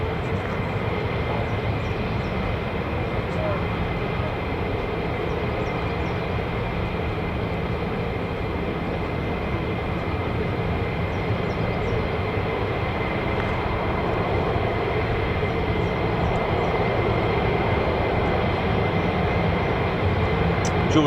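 US Air Force F-35 fighter jets at RAF Lakenheath with the 48th Fighter Wing fill the air with a sustained, distant, broadband engine roar that holds steady throughout.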